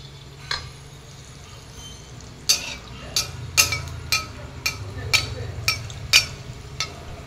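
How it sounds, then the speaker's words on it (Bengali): Malpua frying in plenty of white oil, a soft sizzle under a run of sharp metallic clinks and scrapes from a utensil stirring in the pan, spaced irregularly after a quiet start. "সাদা তেল দিয়ে মালপোয়া হচ্ছে, ফোলা ফোলা মিষ্টি মিষ্টি মালপোয়া।"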